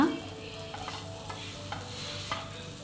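Cauliflower gobi fry tossed with garam masala in a pan, made with little oil, gives a soft steady sizzle under quiet stirring scrapes, with a louder spoon knock at the start and faint taps throughout.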